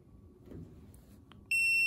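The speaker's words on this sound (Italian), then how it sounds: "primo bip, secondo bip, doppio bip chiuse" BlueBird PS 22 32 electric pruning shears as the anti-cut sensor is reactivated: a faint brief blip, then a loud, clear electronic beep that sounds near and sustains to the end.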